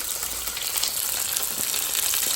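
Close, continuous sizzling and crackling of battered fish frying in hot oil, an even hiss with scattered pops and no voices.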